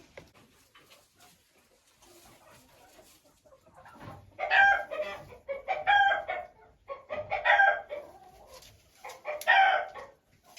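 A rooster crows repeatedly at a poultry yard with hens kept in enclosures, four loud harmonic crows at steady intervals over soft background clucking and quiet farmyard noise, with no talking.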